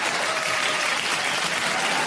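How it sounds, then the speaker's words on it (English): Applause from an audience for a student, a dense, continuous roar of many hands clapping at steady loudness throughout the short moment. "Let's give her a round of applause."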